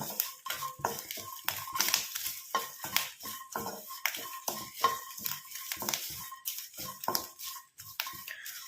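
Coconut pieces frying with curry leaves in a pan for a homemade hair-darkening oil, a quiet run of rapid crackles and scraping stirs in an irregular rhythm, close by.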